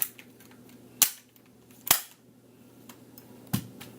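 A Nerf toy gun fires three times, each a sharp, close snap spaced unevenly about a second apart, with a softer fourth pop near the end over a quiet background.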